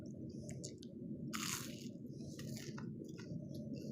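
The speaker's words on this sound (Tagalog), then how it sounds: "kakagatin na natin ang ating tinapay. Napakaluto" Teeth bite into crunchy toasted bread at breakfast, giving a loud crackling crunch followed by several smaller chewing crackles, close to the microphone with no talking.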